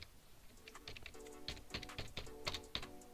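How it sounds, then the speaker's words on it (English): Quick typing on a computer keyboard, a close run of light clicks and taps at an uneven rhythm over a few seconds, fairly quiet. "Let me type it."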